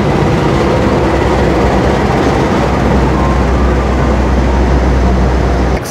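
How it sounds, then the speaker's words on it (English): Loud, steady rumble of a train at Gambir station in Jakarta, Indonesia, with rolling rail noise, close and continuous, cutting off abruptly at the end. "Now we are in Gambir train station, Jakarta, Indonesia."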